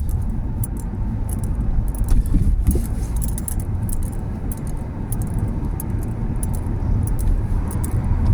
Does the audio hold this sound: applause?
no